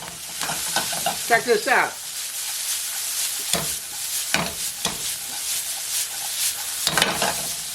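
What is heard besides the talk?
vegetables sizzling in hot oil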